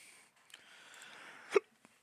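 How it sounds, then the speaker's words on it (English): A single sharp hiccup bursts out loud and close after a stretch of quiet room hiss, followed by a faint small catch of breath. "I got the hiccups and shit"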